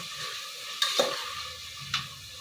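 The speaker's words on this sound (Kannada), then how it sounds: "ಈಗ ಇದನ್ನ ಎಣ್ಣೆಲ್ಲ ಚೆನ್ನಾಗಿ ಫ್ರೈ ಮಾಡ್ಕೊಳ್ಳೋಣ" Cauliflower frying in oil gives a steady soft sizzle, interrupted by a couple of sharp utensil scrapes and clinks as it is stirred in the pan.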